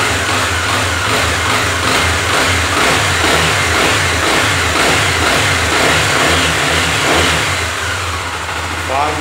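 Honda XRE 300 2018 motorcycle with an engine noise, revving loudly and continuously up close with pulsing throttle swells, while someone talks over it.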